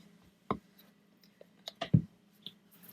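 An iPad cover flipped over, heard as a few close, quiet clicks and soft taps of the case folding, spread over a few seconds in a near-silent room.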